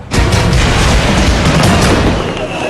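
A fireworks display bursts over the town of Imus, Cavite, with loud, near, rumbling booms running together in a continuous barrage.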